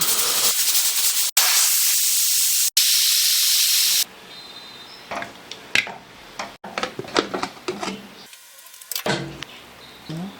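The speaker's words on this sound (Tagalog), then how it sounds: "Lalakasan ko lang yung apoy hanggang sa kumulo at umikot itong ating pito. Mag-iingay yan mamaya." A pressure cooker braising pork in Korean style lets off a loud continuous hiss of steam from its whistle in long bursts, followed by sharper intermittent spurts and puffs.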